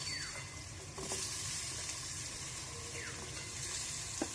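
Sliced potatoes fry in hot mustard oil in a wok, a steady close sizzle with a few light clinks and stirring scrapes, no voices.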